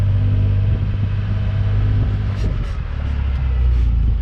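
A different gearbox whines steadily under a continuous low engine rumble from inside a moving vehicle on a West Australian sheep farm, with no talking.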